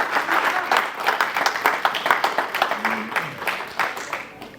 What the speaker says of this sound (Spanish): Denle un gran aplauso al Rey de Reyes.